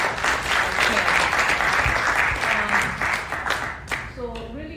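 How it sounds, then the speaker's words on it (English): An audience gives a sustained round of applause, loud and close, tapering off with a voice starting to speak as it dies down. "let's give a big round of applause"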